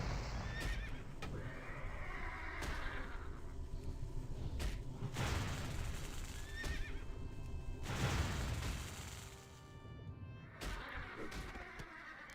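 A horse mount in the World of Warcraft video game whinnies loudly several times between brisk clip-clop hoofbeats, with sharp impact noises scattered through.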